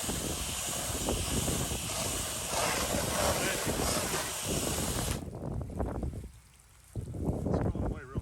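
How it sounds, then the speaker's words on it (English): Steady, heavy wind buffeting the microphone outdoors during patio and driveway pressure washing, loud and roaring for several seconds before easing into a lull, then gusting back up. "I'm going to continue to fight this wind."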